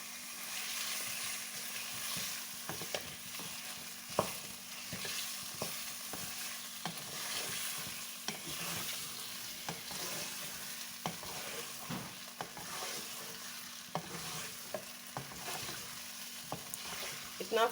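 Chicken frying in a pan, a soft continuous sizzle with frequent light clicks and scrapes of a spoon turning the pieces, quiet and steady with a faint low hum underneath.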